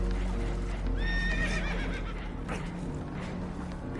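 Spooked horses whinny shrilly aboard a damaged boat in Red Dead Redemption 2, a loud rising neigh over a steady rumble of water and hooves clopping nearby.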